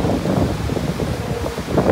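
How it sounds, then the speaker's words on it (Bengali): The river current rushes at Gangotri near the bathing ghat, a loud, close, continuous roar of turbulent water with a low rumble and wind buffeting the microphone, and no talking. "জলের স্রোত দেখো শুধু।"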